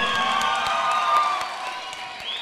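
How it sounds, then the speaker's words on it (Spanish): Crowd cheering and clapping in a short burst at an anniversary party, whoops over scattered applause, fairly loud. "Regálame un aplauso para el señor Alberto Castellán esta noche."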